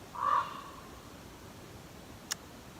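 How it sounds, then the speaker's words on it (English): A raven gives one short, harsh caw near the start, then quiet outdoor ambience follows with a single faint tick. "The raven is listening to my poems."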